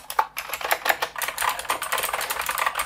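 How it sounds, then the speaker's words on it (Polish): Brisk typing on a Liocat KX 365 CM mechanical keyboard with Blue switches, a few heavier, louder space bar thumps standing out among the quicker clicks, close and uninterrupted. "Spacja bardzo głośna."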